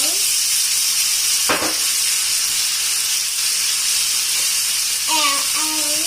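Potatoes frying in a pan with onions and vegetables give a loud, steady hiss and sizzle throughout, with a brief clatter early on and faint voices near the end.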